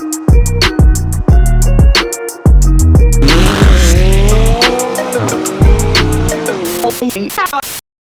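A McLaren heading to a car meet in Temecula revs hard, loud and close, its engine note stepping through sharp gear changes with rapid clicking bursts and rising harmonics.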